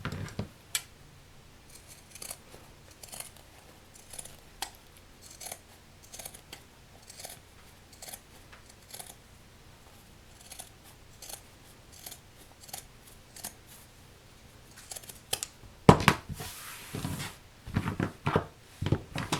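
Scissors snip repeatedly through the fabric of a small sunglasses case, a series of close, sharp cuts in an irregular rhythm, with a quicker flurry of snips near the end.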